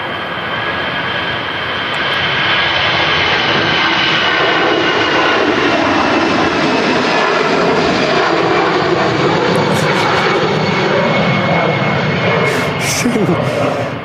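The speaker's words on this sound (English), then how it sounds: "EasyJet A320 rolling down 23 right." An EasyJet Airbus A320 jet rolls down runway 23 right at Manchester Airport, its engines a loud, steady, broad roar that holds for the whole stretch.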